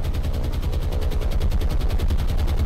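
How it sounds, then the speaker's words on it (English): Dense, continuous gunfire from warships in the naval combat game War on the Sea, a loud steady rattle of rapid shots and booms filling the whole stretch with no talk over it. "Lots of fire from their guns."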